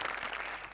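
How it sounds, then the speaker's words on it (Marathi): Steady applause from a studio audience for the singers Monal and Onkar Bhojane on a Marathi comedy show, a soft even patter of many hands heard at a distance and fading slightly at the end. "त्यांच्यासाठी जोरदार टाळ्या"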